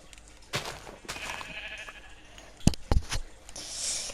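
A blocky Minecraft sheep bleats amid game sounds, short clicks and thumps, with a brief loud burst near the middle.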